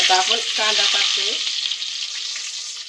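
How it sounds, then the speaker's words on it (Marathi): Chopped onion dropped into hot oil for the tempering of a crab curry sizzles loudly and continuously at close range, a dense hiss that slowly eases, with no talk. "फोडणीला कांदा टाकला."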